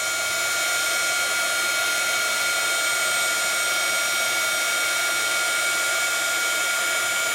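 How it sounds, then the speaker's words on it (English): A heat tool blows hot air onto crackle paste in a steady, loud, unbroken whoosh that holds at one level from start to finish, with no talking. "Now it takes a little time for the heat tool."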